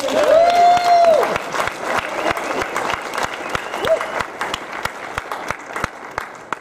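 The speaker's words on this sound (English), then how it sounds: "clap your hands" Audience applause at a candidate forum breaks out with a few short cheers and a whistle-like tone at the start, then thins into scattered, distinct claps that slowly die away.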